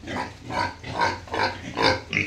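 Piglets being caught and loaded into a vehicle for a new pig farm in Assam squeal and grunt close by in about five rhythmic loud bursts.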